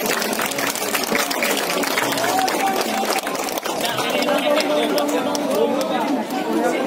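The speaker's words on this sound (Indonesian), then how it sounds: "Monggo semuanya tepuk tangan untuk semuanya." Dense, steady clapping from an audience at a Wayang Timplong shadow-puppet show during a nyadran village ceremony in Kelurahan Ploso, Nganjuk, filling the whole stretch with crowd chatter and voices mixed in.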